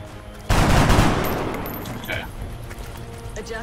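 A soldier's weapon fires in XCOM: Enemy Within, a sudden loud blast of gunfire that decays over about a second, followed by quieter game ambience with faint clicks.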